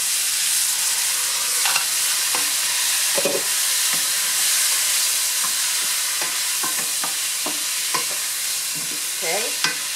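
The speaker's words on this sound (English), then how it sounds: "So we're gonna give the onion a chance to get translucent." Onions frying in a covered pan while being cooked until translucent, a steady soft sizzle and hiss running throughout with occasional light stirring clinks and scrapes near the end.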